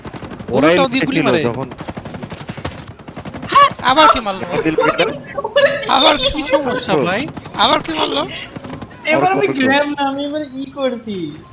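Rapid gunfire bursts from the tactical shooter Tom Clancy's Ghost Recon Breakpoint, sharp repeated shots up close, mixed in under excited talk from players throughout.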